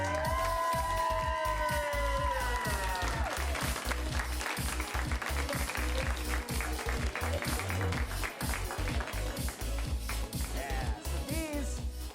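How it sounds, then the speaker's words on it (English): Sustained applause with cheering and whoops from an audience at an improv comedy show, loud and continuous with voices mixed in throughout. "We'll keep that round of applause going for the Curious Comedy Players."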